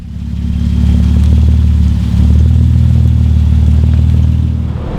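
A Jeep Wrangler JK with 5.38 gears cruises uphill on a highway in 6th gear, a steady, loud low engine drone with road rumble that swells slightly and holds constant.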